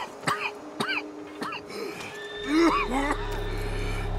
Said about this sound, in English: Arthur starts coughing heavily until he passes out